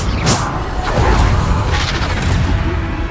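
Bombarda spell explosions in Hogwarts Legacy, loud booms with crashing bursts and whooshes, a sharp blast early followed by further rumbling impacts.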